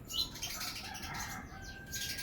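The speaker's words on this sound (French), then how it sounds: "Désolée pour le bruit, il y a beaucoup d'oiseaux ici." Birds flap their wings close by, with faint chirps mixed in over a steady outdoor background hiss, and no one talking.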